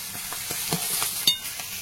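Pieces of a large magur catfish fry hard in hot oil until reddish and crisp, with a steady close sizzle broken by soft stirring clicks and a sharp spatter, and no one speaking.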